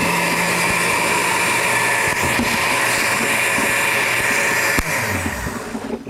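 A blender runs steadily at full power, mixing clay detox powder with water to break up lumps, its loud continuous whir holding for several seconds before easing slightly near the end.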